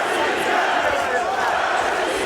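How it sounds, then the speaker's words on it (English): A Moscow arena crowd roars steadily throughout an MMA bout between Alexander Shlemenko and Bradley, a dense, continuous wash of cheering at constant loudness with no pauses. "Moscow crowd fully behind Alexander Shlemenko now."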